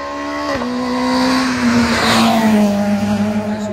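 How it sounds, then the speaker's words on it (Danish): A small Citroën car engine hums past at close range, its pitch holding steady then dipping slightly as it goes by, with a brief tire-like hiss mid-pass. "En lille Citroën. Ja, det er i hvert fald ikke en Peugeot, godt, det kan jeg godt høre."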